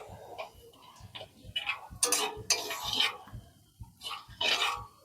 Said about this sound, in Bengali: এবার এই গোটা জিরে ফোড়ন দেব